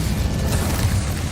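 A short, deep whooshing burst from the Incendio fire spell in Hogwarts Legacy, a loud low rumble sustained for about a second.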